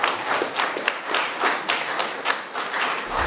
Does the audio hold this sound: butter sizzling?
no